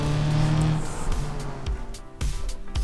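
An off-road SUV engine in the game BeamNG rumbles low and steady, then revs in uneven bursts with clicks and knocks, heard up close with no talking.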